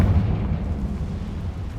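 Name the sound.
Confringo blasting curse explosion in Hogwarts Legacy (video game)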